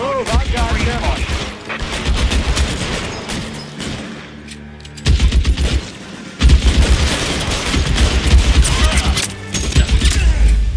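Heavy gunfire in the L.A. Noire crime game, including a Thompson submachine gun: rapid automatic bursts and loud volleys, nearly continuous with one brief lull, while a voice talks over it.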